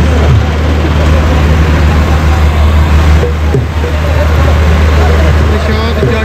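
A tractor engine running outdoors at a rural fair, a loud, continuous, steady rumble that fills the whole stretch with no letup.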